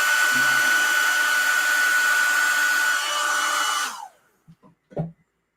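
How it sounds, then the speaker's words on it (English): A hair dryer blows steadily at close range for about four seconds, then shuts off and winds down, followed by a few faint clicks. "Take your dryer. Hit it."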